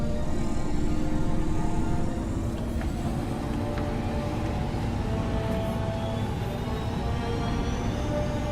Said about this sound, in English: I am prepared to bring the Unreliable into low-altitude orbit.